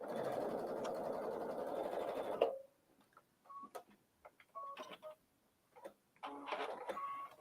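A sewing machine stitches quilt fabric in a steady, close whir for a couple of seconds, then stops, followed by scattered small clicks and handling noises.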